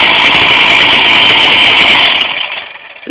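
A Husqvarna 268 chainsaw engine runs loud and steady up close with a high buzzing drone, then winds down and cuts out near the end.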